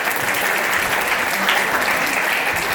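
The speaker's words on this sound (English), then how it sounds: "Clap for her." A classroom of students applauds a classmate, with dense, even clapping that fills the short stretch at a steady loudness.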